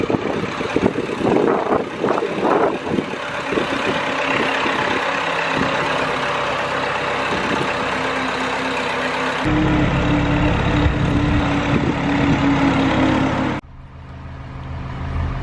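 A heavy forklift engine runs steadily while moving a boat, rumbling and droning with a shift in tone midway before it drops off sharply near the end.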